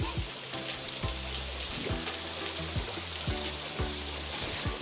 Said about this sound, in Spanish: Los dejo con tomas de esta bonita cascada.